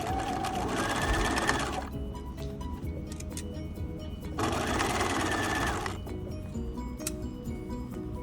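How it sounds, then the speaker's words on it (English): A sewing machine backstitches and then sews a seam along tape, two loud sustained runs of rapid stitching separated by a quieter pause, close up with no talking. "So I'm backstitching first, and then sewing at 5/8 inch along the tape."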